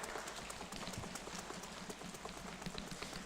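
Dense, steady patter of a church congregation slapping thighs at once to imitate rain, a continuous rain-like rustle with no distinct individual beats.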